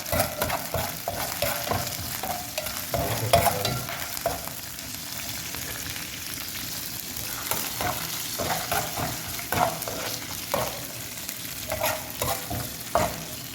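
Mustard seeds and cumin crackle and sizzle in hot oil for a drumstick masoor dhal tempering, with close, busy popping and frying noise punctuated by stirring scrapes.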